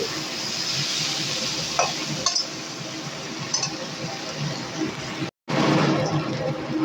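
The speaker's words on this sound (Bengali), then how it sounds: "আলু আর পেঁয়াজ আমি খুব ভালো করে একটু নেড়ে চেড়ে ভেজে নেব" Potatoes and chopped onion stir-fried in a pan while cooking spiced katla fish head, with a steady close sizzle and scraping stirs and light clinks throughout, no talking.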